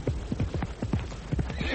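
Horse hooves clip-clopping in a quick, uneven rhythm with a whinny, staged as an effect in a radio drama, close and loud amid the commotion of a runaway horse.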